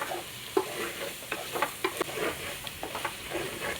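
Chicken curry masala sizzles softly in a pan while a spoon stirs it in a Kerala-style kitchen, giving irregular scraping knocks and bursts over a low, steady frying hiss, with no voices.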